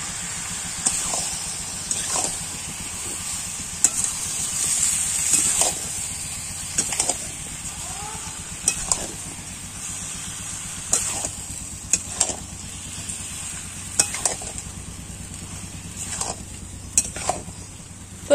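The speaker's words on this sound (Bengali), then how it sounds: "তো এইভাবে আমি কষাতে থাকবো" Masala chicken sautéed in a pan with a splash of water, a soft low sizzle under repeated spatula scrapes and taps at an irregular rhythm, close by and fairly quiet, with no talking.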